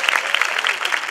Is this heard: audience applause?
yes